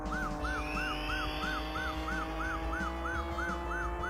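A police car siren in Taito's arcade driving game Chase H.Q. wails in a rapid repeating up-down cycle, about three per second, loud and continuous over a steady engine drone.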